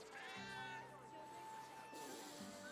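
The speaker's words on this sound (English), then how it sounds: "The cat seems reluctant to part from you." Cat in the video game Baldur's Gate 3 giving a drawn-out, wavering meow that rises and falls, followed by a shorter second cry, close and clear, with a voice partly overlapping.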